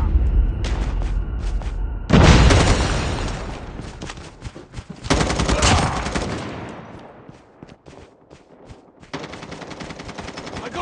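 A loud grenade blast in the mobile game Call of Duty, then heavy automatic gunfire, a second explosive burst and more rapid rifle fire after a short lull, all near and dense.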